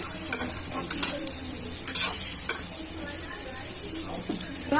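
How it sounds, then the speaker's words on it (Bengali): Fish roe, rohu eggs, sizzles in hot oil in a pan while being lightly stirred, a steady frying hiss punctuated by scraping and clinking strokes of the spoon. "সাথে ডিমগুলা দিয়ে দিলাম বন্ধুরা, দিয়ে একটু হালকা নাড়া দিব।"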